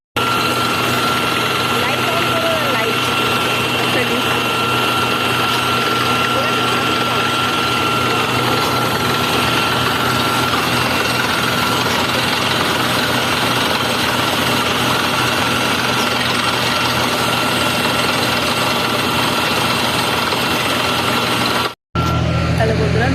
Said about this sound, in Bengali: মিক্সি লাগালাম